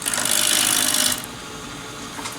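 A woodturning gouge with an Ellsworth grind cuts wood on a lathe while a triangular box is being turned, making a loud, sustained rasping hiss for about a second that stops abruptly and leaves a quiet hum.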